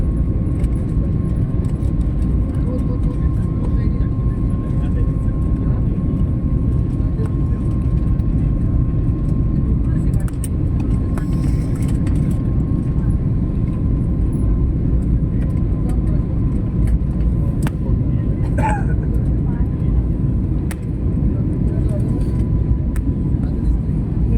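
Steady loud airplane cabin drone during a flight from Pune to Prayagraj, a dense low roar filling the whole stretch with a faint steady tone above it, and occasional small clicks and rustles near the microphone.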